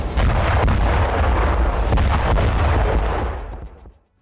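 GRAD multiple rocket launcher artillery fire in the Russia–Ukraine war: a loud, sustained rumbling salvo of overlapping blasts and booms lasting about four seconds, then fading away, with no voices.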